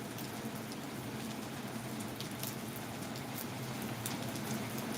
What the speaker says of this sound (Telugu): ప్రస్తుతానికైతే ఒక మామూలు వర్షం అయితే వస్తుంది